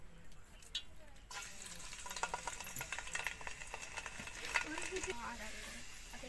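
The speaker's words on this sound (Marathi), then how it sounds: "मी एवढा लसूण घेतली आणि मी एवढा लसूण टाकते फोडणीला" Garlic frying in hot oil for the tempering of a spicy chicken rassa, a steady moderate sizzle that rises after a soft start, with occasional stirring clinks and faint background voices.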